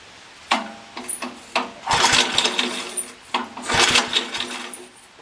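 A generator with a rusty fuel tank and dirty carburetor is cranked several times, each pull giving a short sputtering burst of engine noise that dies away without catching, with faint mechanical clicks between attempts.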